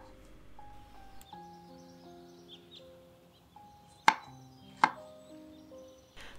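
A knife chops mushrooms into squares on a board, landing two sharp, close chops a second apart over soft sustained background music, with a lighter tap near the end.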